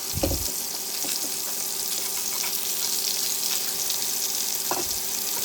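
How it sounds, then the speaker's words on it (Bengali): Fish coated in turmeric and chili powder fries in a pan with a constant dense sizzle and hiss, broken by a couple of brief knocks and clatters. "মাছটা আমি হলুদ গুঁড়ো মরিচের গুঁড়ো দিয়ে মাখিয়ে নিলাম ফ্রাই করার জন্য"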